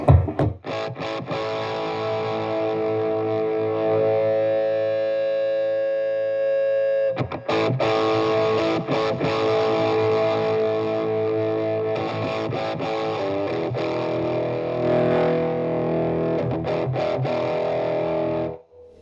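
A loud, heavily distorted guitar through a small valve amp plays continuously, sustained notes then choppier chords after a brief break, thick and buzzing throughout.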